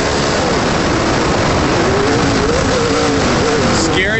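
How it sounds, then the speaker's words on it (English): Loud onboard roar from an off-road race truck during a crash, with engine and wind noise blasting throughout and a wavering engine pitch, while a commentator talks over it. "Watch the crash out the back of Kyle's truck."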